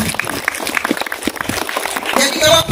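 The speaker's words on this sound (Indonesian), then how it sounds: "Mari kita tepuk tangan untuk Tuhan." Church congregation applauding together, a dense, steady wash of many hands clapping that swells louder toward the end, with no clear speech over it.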